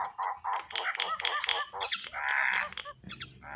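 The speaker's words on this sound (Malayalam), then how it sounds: "മൈന ഉണ്ടാക്കുന്ന ശബ്ദം." Raucous, varied squawks and chattering calls of a common myna, close and loud, coming in a nearly continuous stream.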